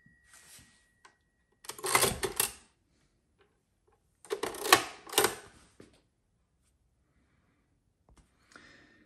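An Everest Z5R mechanical calculator runs in two separate bursts of dense clattering gear and lever rattle, each about a second long, close and fairly quiet, with a faint click at the end.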